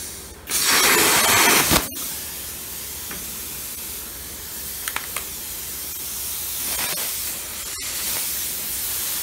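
A Forney Easy Weld 251 20 P plasma cutter fires in a loud hissing, spray-like burst for about a second and a half, then cuts off sharply, leaving a steady lower background hiss with a few faint clicks.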